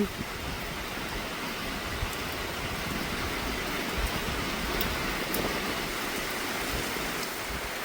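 Rain falls steadily on a field hut in rice paddies, a dense, even hiss of drops that holds at one level throughout with no pauses.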